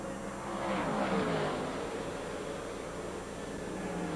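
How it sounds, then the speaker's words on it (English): Race cars thunder around a dirt track during the 1997 Prolong 150 Small Block Championship, a dense continuous engine roar that swells briefly as the pack passes, then holds steady. "Defending champion Tremont will follow him as we complete lap number 9."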